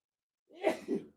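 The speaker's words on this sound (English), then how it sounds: "Sorry, I had to sneeze." A single sneeze bursts out abruptly after a silent lead-in, a sharp breathy onset followed by a second voiced burst, close and moderately loud with no talk around it.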